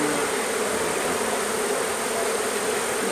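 A dense, steady swarm of honeybees drones loudly and continuously around an open beehive calmed with smoke, a close, unbroken buzz with no voices.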